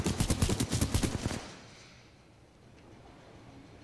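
Rapid automatic gunfire in the Titanfall 2 video game, a loud burst of evenly spaced shots for over a second, then it cuts off into a low ambient hum.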